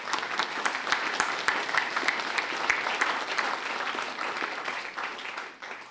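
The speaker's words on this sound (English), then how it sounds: "why don't we celebrate and give ourselves a round of applause" A gathered audience at a speech gives itself a round of applause, continuous dense clapping with crisp individual claps standing out, sustained for several seconds before tapering off at the end.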